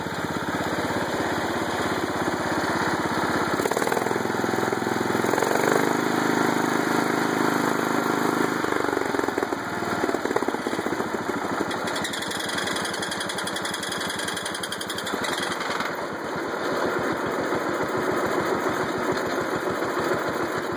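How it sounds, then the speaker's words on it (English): A John Deere 216 lawn tractor engine ticking over at a slow idle, a steady, even mechanical drone that stays loud and close throughout, with a slight shift in tone partway through. "That's a pretty slow idle right there. Seems to be running real smooth here."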